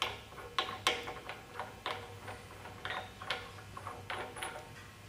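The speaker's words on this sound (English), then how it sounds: "That allows us to unthread this retaining nut out of the ram." Retaining nut being unthreaded from the ram of a punch press, heard as faint, irregular metallic ticks and clicks over a quiet steady hum in a workshop.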